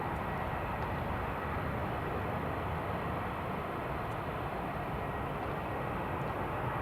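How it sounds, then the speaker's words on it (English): An EasyJet airliner taxiing out at Newcastle Airport gives a steady, broad distant engine roar that holds at an even level throughout. "EasyJet just taxiing out now as well."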